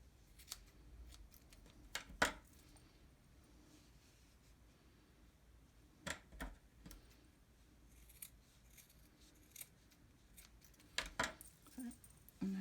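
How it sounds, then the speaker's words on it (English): Scissors snip crochet yarn tassels of a chunky blanket in quiet, scattered cuts, a few sharp close snips spaced by pauses, with a faint voice now and then. "any straggly long ones, just trim them off so it's nice and even."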